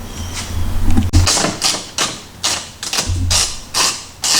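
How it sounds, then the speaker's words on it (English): Ratchet or wrench loosening 10mm bolts that hold the rear wing on a Nissan 370Z, bursts of rapid clicking in uneven clusters, close and fairly loud with no speech. "there's a little 10mm bolt inside there. There's one on the other side. We're just gonna take those out real quick."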